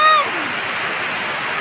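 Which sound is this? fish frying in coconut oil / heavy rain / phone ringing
heavy rain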